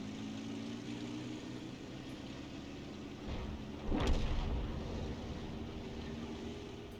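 A single artillery shell fired from a tank destroyer in World of Tanks, a muffled distant boom rising over a steady low engine rumble, then fading back into the background drone.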